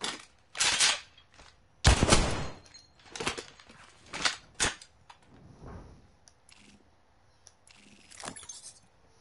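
The Spitfire light machine gun fires in Apex Legends in several sharp bursts of rapid shots, spread unevenly with gaps between them, alongside fainter clicks and game effects.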